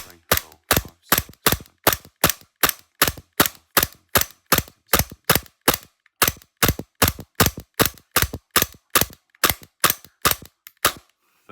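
A Tokyo Marui G19 Gen3 airsoft pistol fitted with a 5KU TTI Combat Master slide fires about 30 sharp, evenly spaced shots in quick succession, each a loud close snap with a pause midway.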